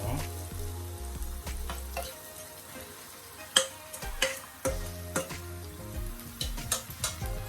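Corned beef fries in a pan while being stirred, a steady sizzle broken by sharp clanks and scrapes of the spoon, all set under background music.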